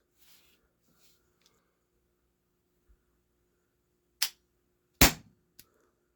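An Umarex TR 50 air gun fires with a sharp, loud crack and a burst of venting gas, followed by a smaller pop; a lighter snap comes just before, and the faint click of the trigger sits in near-silence.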